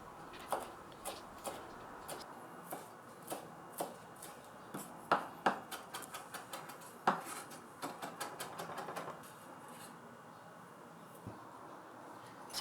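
Lemon peel is minced with a knife on a cutting board, a series of light, crisp taps that start spaced out and then quicken into rapid clusters, close and fairly quiet.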